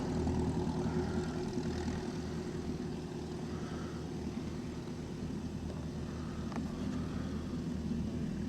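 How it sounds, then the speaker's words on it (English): Small propeller planes droning steadily overhead near an airfield, a continuous low engine hum with no talk. "There's a few small planes active along here now."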